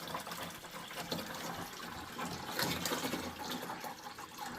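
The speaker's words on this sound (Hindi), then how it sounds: "तो यहाँ पे अब ये देखिए हमारा पानी निकलना स्टार्ट हो चुका है।" Water drains through a siphon pipe from a water tank into a bucket, making a continuous soft rushing gush with no break.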